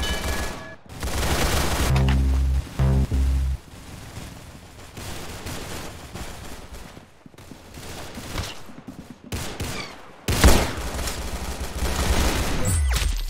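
Rapid bursts of gunfire from a shooting game come in loud dense volleys, broken by short gaps and heavy thuds, continuing throughout.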